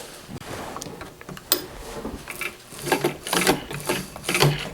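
A sewing machine stitches a mitered skirt hem, running in several uneven bursts that grow busier and louder toward the end, with no one talking.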